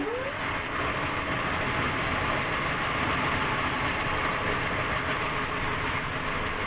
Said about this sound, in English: But back to the bandsaw. That's working great. And let me see if I can turn it on for you.